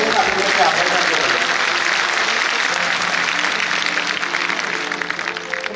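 A crowd at a ceremony honoring Atal Bihari Vajpayee breaks into continuous applause, dense and loud throughout, with a voice and faint music mixed in underneath.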